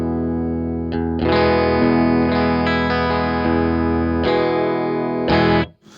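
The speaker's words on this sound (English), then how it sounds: "so that's the clean sound with no overdrive" Electric guitar through a clean amp channel with no overdrive, used as a pedal-board platform, playing loud sustained chords that ring out and change several times before cutting off abruptly.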